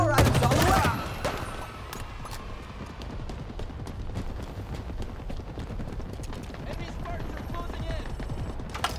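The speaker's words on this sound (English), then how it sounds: "Why is he shooting me?" Rapid, dense gunfire from the Halo Infinite video game opens with a loud blast, then continues as sustained crackling bursts at a moderate level, with faint voices underneath.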